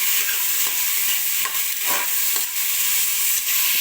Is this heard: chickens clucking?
no